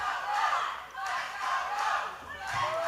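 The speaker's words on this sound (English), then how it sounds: "The crowd chanting, "Let's go," A wrestling crowd at an OVE event chants "Let's go, Rose" for wrestler Sophia Rose, loud rhythmic swells of massed voices rising and falling in a repeating two-beat pattern that fills the arena.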